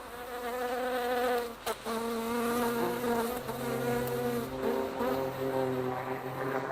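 Loud, steady insect buzzing of a bee hovering around flowers, a close droning hum with wavering pitch that runs continuously with only a brief dip.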